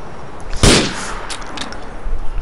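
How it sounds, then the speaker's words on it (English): A single loud gunshot in the video game GTA 4 cracks sharply, then rings off into a short tail. Quieter ambient game sound follows, and nobody talks. "Shoot that and it'll come to the window."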